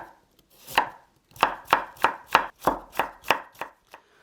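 A knife cuts a carrot into thin julienne strips for a spring cabbage kimchi salad, giving about a dozen crisp, evenly spaced chops on a cutting board. The chops are close and clear, with no talk.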